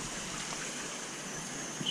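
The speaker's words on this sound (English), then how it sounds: "I'm gonna pump out all the water out of the sump" An Alpine pump rated about 3,000 gallons an hour pumps water out of a rubber-lined sump, a steady, even rush of flowing water with no breaks.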